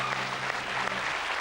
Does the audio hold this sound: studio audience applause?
yes